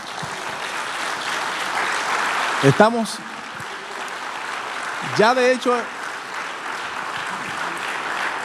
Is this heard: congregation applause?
yes